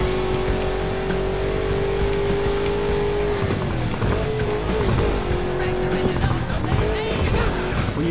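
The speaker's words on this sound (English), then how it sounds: "Hold the accelerator to fire up the engine." A car in a video game revs and drives off, a loud steady engine drone with a sustained pitch that shifts as it accelerates, mixed with tire squeal and road noise throughout.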